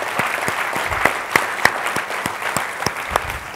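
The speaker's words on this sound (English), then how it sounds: "Let's give them a round of applause for" An audience at a talk event claps for the volunteers, a moderate, even round of applause with a few sharper individual claps standing out.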